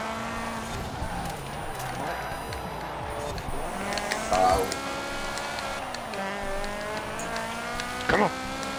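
A 1990s B-class touring race car in Forza Horizon 4 drones with a strained, rising and falling engine note through corners, punctuated by brief tire squeals, while a player talks over it.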